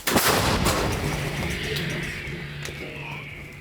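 A 155 mm artillery gun fires one heavy shot nearby, its sharp blast followed by a long rolling rumble that slowly fades.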